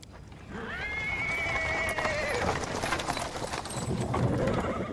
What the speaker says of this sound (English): He is interrupted by the sound of wheels rolling on the paving stones.